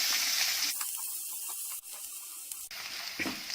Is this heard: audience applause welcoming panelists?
no